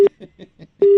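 A steady electronic telephone tone after a call is hung up sounds at the start and again at the end, with a few faint muffled bursts in the gap between.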